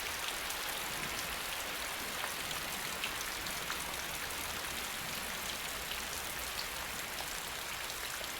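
Steady, dense rainfall pattering continuously on leaves and ground in an Asian forest, with no voices and no letup.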